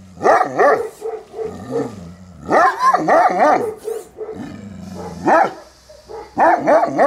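Central Asian Shepherd dogs bark near a farm in Gilău, Cluj: loud, close, deep barks come in repeated bursts with brief pauses between them.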